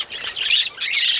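Budgies chirping and squawking in a flight cage, a flock of young birds giving bright, overlapping high calls in two close bursts with no talking.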